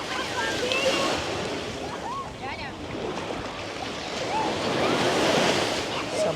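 Sea waves washing onto a beach at Arkadia, a steady broad surf wash with wind noise over the microphone, continuous and moderately loud throughout, with faint voices and a distant boat in the background.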